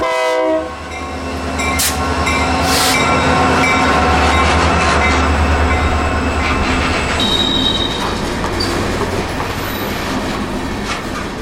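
A freight train led by a GP40-2 locomotive eases into a rail yard, loud and close. The horn sounds at the start over rumbling wheels, followed by clickety-clack and squealing wheels as the cars roll past.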